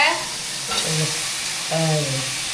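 Chopped vegetables added to sautéed onions sizzle and hiss steadily in a pan for Tamil home-style curry without tomatoes, a moderately loud frying bed running under intermittent talking.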